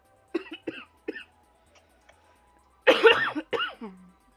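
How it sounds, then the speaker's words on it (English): Several sharp coughs from a person nearby, three short ones followed by a louder, longer burst of two or three harsh coughs, with a quiet pause in between. "Sorry for the coughing, guys."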